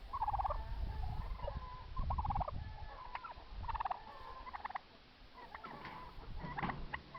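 A turkey gobbles in rapid rattling bursts, several loud calls spread across the stretch with short pauses between, clear and fairly close.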